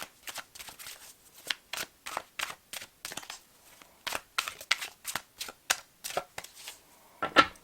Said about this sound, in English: Let's get another 3 cards for you.